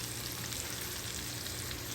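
Okra (bhindi) shallow-fries in a pan over medium to medium-high heat, giving a steady, dense crackling sizzle that stays close and even throughout, with no voices.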